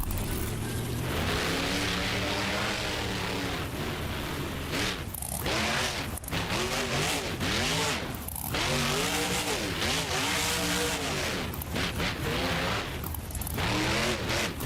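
Simulated monster trucks, Outback Thunda and Sparkle Smash, roaring and revving in a BeamNG car crush competition, with surging engine notes, tire noise and sharp crash bursts in near-continuous succession.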